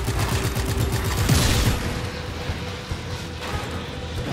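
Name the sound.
sniper gunfire in the video game Just Cause 3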